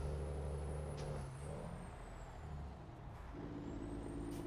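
Heavy truck in Euro Truck Simulator giving a sharp hiss of air brakes over a low diesel engine drone, the engine note dipping and rising again as the rig slows and pulls on.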